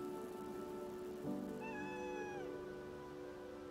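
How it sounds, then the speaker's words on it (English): A cat gives a single drawn-out meow, fairly quiet and alone over a low, steady background hum. "One more time for Kitty Cat"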